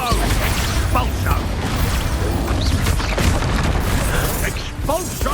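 Repeated Expulso spell blasts in the video game Hogwarts Legacy, a steady barrage of loud booms, crashes and mechanical clatter with a player's voice shouting over the combat.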